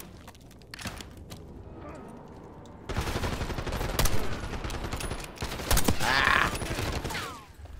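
Gunfire in the Black Ops 6 video game campaign: rapid automatic bursts and heavy volleys, louder and denser in the second half, mixed with a player's brief voice.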